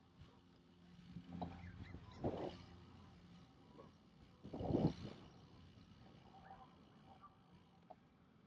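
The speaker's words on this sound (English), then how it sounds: "lots of geese" Faint honks of geese carry across an open park with lakes and a fountain, a few scattered calls with one louder burst, over soft wind and ambient noise.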